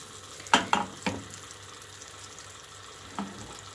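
Sugar sprinkled onto melted butter in a frying pan, set to caramelize for an apple filling, giving a few sharp crackles and spits followed by a quiet, low sizzle with a last small pop, with no talking.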